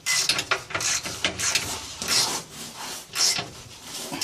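A rusty exhaust nut is worked slowly back and forth on the threaded stud of a 1996-2000 Nissan Pathfinder, making close, irregular scraping and grinding bursts of metal on corroded threads, with short pauses between strokes.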